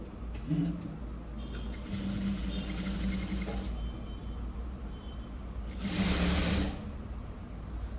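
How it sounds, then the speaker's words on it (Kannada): Sewing machine stitching gold thread piping onto a velvet blouse, a steady close mechanical whir running throughout with a louder surge near the end, no speech. "ಇಲ್ಲಿ ಸ್ಟಿಚ್ ಮಾಡ್ಕೊಂಬಿಡಿ ನೀಟಾಗಿ"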